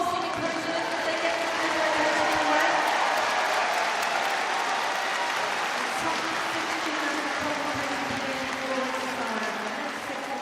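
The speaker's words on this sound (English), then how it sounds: "give them your warm applause." Warm, sustained applause from a large arena crowd greets gymnasts at the start of the men's all-around final at the World Championships in Liverpool, a dense steady clapping that holds loud throughout.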